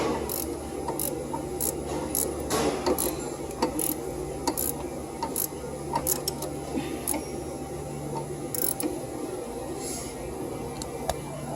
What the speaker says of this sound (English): I got a ratchet wrench on here.